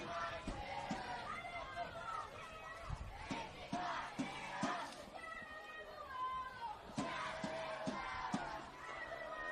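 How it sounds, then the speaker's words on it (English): The Spirit cheer squad yells and chants from the stands at a women's football match between NWS Spirit FC and Northern Tigers FC, a rhythmic crowd roar running under constant commentary. "the Spirit cheer squad have lifted their efforts"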